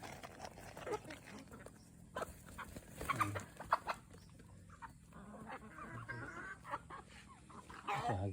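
Chickens and ducks gather at feeding time, giving soft scattered clucks and clicks with faint birds around, fairly quiet and near, mixed with light handling noise.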